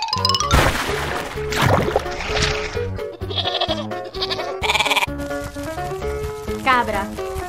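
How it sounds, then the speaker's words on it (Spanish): Cartoon goat bleating amid busy music and other cartoon sound effects, a few wavering bleats rising over the loud background. "Cabra."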